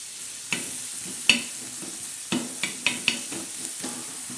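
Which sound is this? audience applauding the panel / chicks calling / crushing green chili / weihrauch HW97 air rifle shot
crushing green chili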